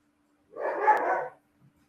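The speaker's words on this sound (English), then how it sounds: "That was one of my dogs." A single short, loud bark from a dog close to the microphone, alone against silence during an online SEO session.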